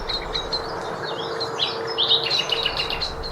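A brief, rich snatch of common nightingale song rises among other birdsong in woodland, with sharp whistles and fluttering phrases. A low steady hum of industrial noise runs underneath.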